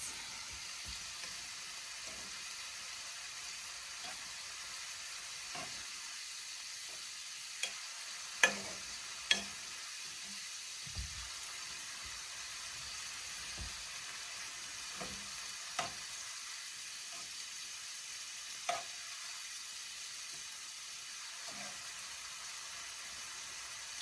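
Shrimp fry in a pan with a quiet, constant sizzle while scattered clicks and taps mark the pieces being turned one by one.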